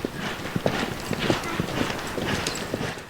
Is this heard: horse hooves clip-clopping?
yes